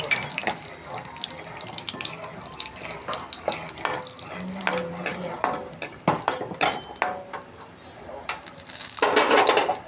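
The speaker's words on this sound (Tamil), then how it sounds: "நான் முந்திரி போடுறேன்" Cashews go into a pan and are stirred, giving close, irregular clinks, scrapes and clatter of a utensil against metal, with a brief burst of hissing near the end.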